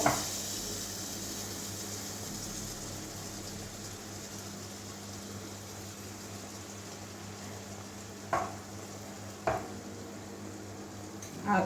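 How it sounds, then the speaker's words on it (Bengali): Malpua batter, made with palm fruit, sizzles steadily in hot oil over a medium flame, a soft continuous crackle close by with a couple of brief ladle clinks. "এবারে তেলটা গরম হয়ে গেছে মনে হয় এই যে এবারে হাতা দিয়ে এক হাতা ঢেলে নেবো"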